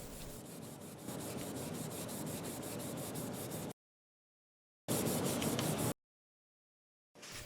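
Scotch-Brite pads and WD-40 scrub rust from the overarm of an Atlas horizontal milling machine. The result is close, rapid abrasive rubbing in sustained strokes, broken by short cut-off silences.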